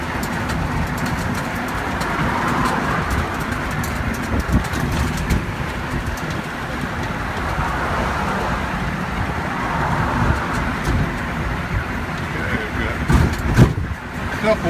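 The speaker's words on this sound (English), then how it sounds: "couple more cars coming here" Cars passing on a road around a cyclist, engines and tire noise swelling and fading as vehicles go by, with a steady background rumble and someone talking over it.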